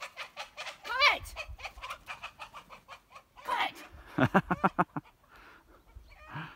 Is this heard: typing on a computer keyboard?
no